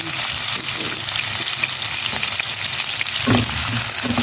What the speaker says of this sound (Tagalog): Pwede na natin ilagay yung beef. Haluin lang din natin siya